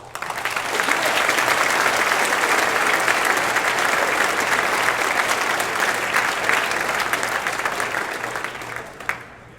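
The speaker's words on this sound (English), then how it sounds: "Please give yourselves a round of applause" Fraternity members at an award gathering give themselves a round of applause, a loud, sustained wall of clapping from a large crowd that holds steady for nearly ten seconds before cutting off abruptly.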